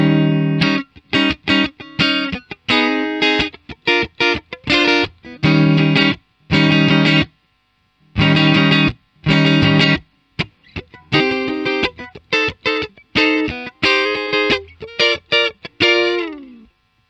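Japanese Telecaster on the front pickup played through a Fender Deluxe Reverb amp with treble near 4 and bass near 8, sounding a run of loud, clean chords and single notes in short phrases with brief gaps between them.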